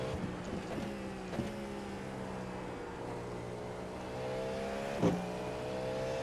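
A Cadillac V-Series.R race car engine in the game iRacing drones steadily at high revs, with a few brief clicks and a slight rise in loudness toward the end, no talking.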